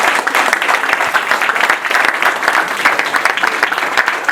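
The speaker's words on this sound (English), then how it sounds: "Give him a big round of applause to all these brothers" Dense, sustained audience applause from a crowd at a lecture event, a steady wash of many hands clapping close and loud throughout, with no voices rising above it.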